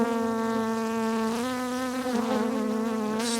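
Honeybees buzz around a hive that is close to swarming, with a steady, humming, close-up drone that wavers in pitch and swells briefly near the end.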